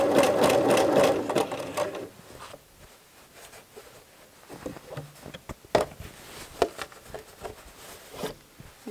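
A sewing machine stitches a skirt pocket in a loud, steady burst for about two seconds, then stops, leaving soft handling and rustling of fabric with a few light taps.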